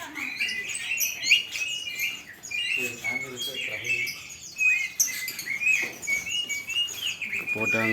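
Many caged birds at a bird kiosk in Madura, Indonesia, chirp and tweet in dense overlapping calls, bright and continuous throughout, with a few lower squawks and faint voices underneath.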